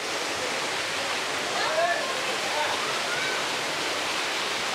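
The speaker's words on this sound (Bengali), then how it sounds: "জোরে জল পড়ার আওয়াজ আসছে এই সামনে থেকে" Steady, broadband roar of a waterfall pouring down near a narrow, slippery path in Cherrapunji, Meghalaya, continuous and loud with no pauses.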